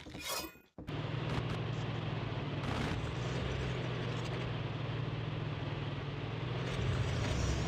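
Car engine in Call of Duty Mobile, a steady low motor drone beginning abruptly after a short burst and running loud and constant, with faint clinks on top.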